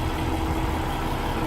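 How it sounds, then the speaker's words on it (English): A Paccar MX-13 diesel truck engine idles with a steady, even low rumble and mechanical hum, close by and unbroken, with no talking over it. "MX-13 engine. It's only got 10 speed in it, but yeah, you know, that's alright."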